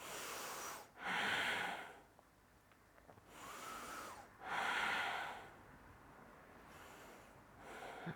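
Slow, deep yoga breaths held in archer pose: three long, airy breath sounds spaced a few seconds apart, close and clear with quiet pauses between, no talking.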